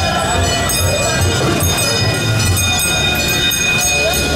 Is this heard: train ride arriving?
yes